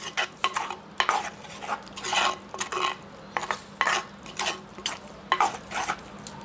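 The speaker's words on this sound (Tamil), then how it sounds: "தேசி புளியை விட்டு நல்லா பிரட்டுவோம்" Jaffna-style intestine curry is tossed in a pan with lime juice, producing repeated scraping and stirring strokes of a utensil against metal over a light sizzle, in rhythmic bursts with no talk.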